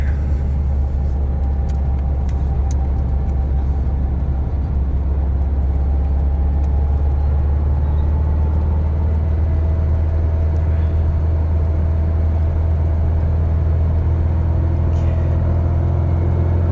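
A car with 40, 44 or 48 IDF carburetors and a modified fuel pump accelerating onto a freeway, heard from inside as a loud, steady, deep engine drone with road rumble throughout.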